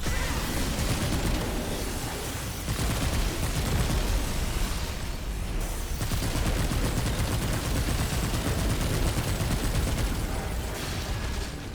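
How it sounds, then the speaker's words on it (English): Cube gun with the momentum modifier firing continuously in Remnant 2, a dense, loud, unbroken stream of rapid shots and bursting impacts with rumbling booms, no voices over it. "Next up, we have the cube gun with the momentum modifier as usual."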